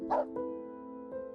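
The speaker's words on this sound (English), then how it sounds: "Startled, Rover let out a loud bark" A dog lets out a sharp bark followed by whining, yipping tones, close and clear over a faint sustained musical tone.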